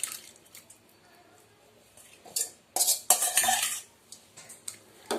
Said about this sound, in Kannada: ಬೇಯಿಸಿಟ್ಕೊಂಡಿರೋ ಬೇಳೆಯನ್ನು, ತೊಗರಿ ಬೇಳೆಯನ್ನು ಸೇರಿಸ್ತಾ ಇದ್ದೀವಿ ನೋಡಿ